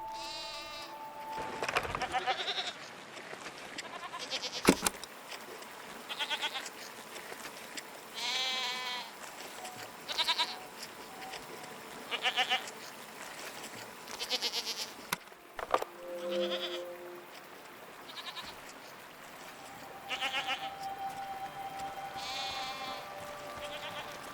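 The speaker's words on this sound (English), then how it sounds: "What are these strange goat-like creatures? Are they simply goats?" Goat-like creatures in the video game Season: A Letter to the Future bleat repeatedly in a small herd, overlapping nasal calls near and farther off over a faint outdoor insect hum.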